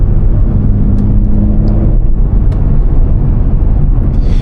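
BMW M3 Competition in a softened standard drive mode cruising on a street, a steady low engine and road drone heard from inside the cabin, with a brief faint click or two and no talking.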